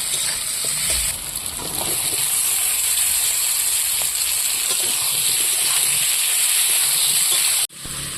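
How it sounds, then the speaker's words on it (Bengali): Potatoes and onions frying together in a pan, a loud, steady hiss of sizzling oil running continuously with faint stirring clicks, cut off briefly near the end. "আলু আর পেঁয়াজ আমি একসঙ্গে ভেজে নেব"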